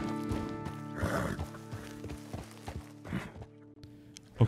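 A wild horse in the video game Red Dead Redemption 2 whinnies in a few harsh bursts, mixed with hoof clops and steps over a low, steady game soundscape.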